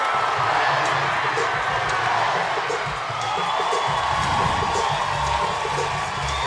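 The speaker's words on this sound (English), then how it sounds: "And the applause on the departure of Rachel Garcia" Crowd at a college softball game, UCLA vs Oklahoma at the Women's College World Series, applauding and cheering steadily throughout, a broad sustained roar with scattered whoops, loud and close.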